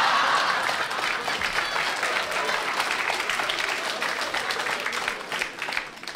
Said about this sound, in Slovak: Biedny potlesk.